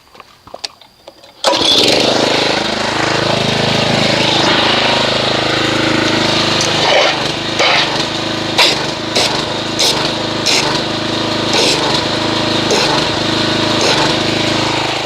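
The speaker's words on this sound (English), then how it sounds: "let's get the pressure washer here and see what kind of foamage we get" A pressure washer starts up and runs, spraying a soap foam mixture; a loud steady motor drone with rhythmic pump pulsing follows a brief quiet moment of small handling noises.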